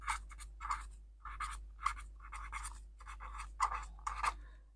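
Pen on paper as a maths answer is written out by hand, close scratchy strokes in short irregular bursts separated by brief pauses, over a low steady hum.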